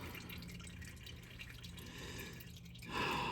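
Engine oil drains from a 2025 Toyota Camry in a steady, faint trickle and splash, closer and louder at the very end.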